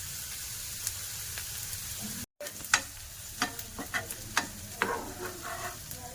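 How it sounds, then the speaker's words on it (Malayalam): Onions sautéing in a pan for a home Christmas lunch, a quiet sizzle broken by light, scattered spatula clicks and scrapes, with a brief drop-out early on and no voices. "അപ്പം നമ്മൾ ഉള്ളിയെല്ലാം തന്നെ വഴറ്റി എടുത്തിട്ടുണ്ട്."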